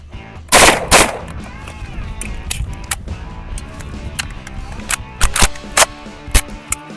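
A replica MP5 submachine gun lets off loud, close bursts of snappy, slapping shots: a quick double at the start, scattered single cracks, then a faster cluster near the end.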